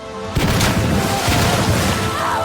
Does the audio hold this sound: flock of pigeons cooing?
no